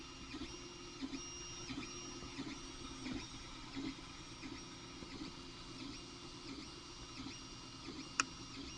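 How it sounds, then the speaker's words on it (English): An Ender 3 Classic 3D printer runs through a print, its stepper motors whining in steady tonal patterns with soft rhythmic movement noise and a single sharp click near the end, close and alone without talk. "On to the next print."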